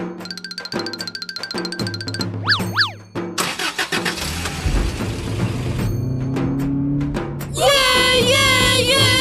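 A jeep engine cranks and turns over amid a busy mix of cartoonish sound effects and chimes, then rumbles steadily under bright tonal music near the end.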